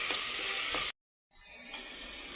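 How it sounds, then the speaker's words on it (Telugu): Sambar powder stirred into a curry sizzling in a pan: a steady, loud frying hiss, cut by a brief silent gap, then resuming slightly softer with faint stirring scrapes. "వేసి ఒకసారి దీన్ని బాగా మిక్స్ చేసుకుందాము"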